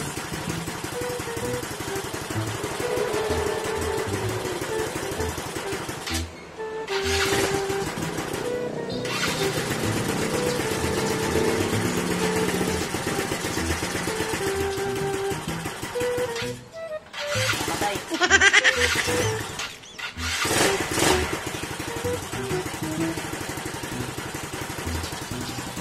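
A Yamaha Mio Sporty motorcycle with a 59mm engine is started after an oil change and runs at a close, steady idle, with brief pauses and a few throttle blips breaking the rhythm.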